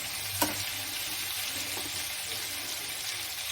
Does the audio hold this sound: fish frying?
yes